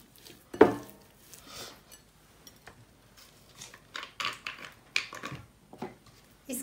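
Chicken kabab marinade mixed in a bowl gives a run of light clinks and soft scrapes of spoon against the dish, with one sharper knock near the start and a few spaced taps later, close and fairly quiet.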